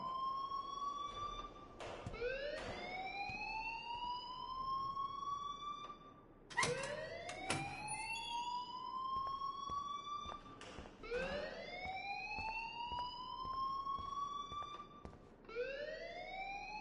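A rising and falling electronic alarm siren from the video game Life is Strange wails in repeated sweeping cycles, loud and steady throughout, with brief breaks between some cycles.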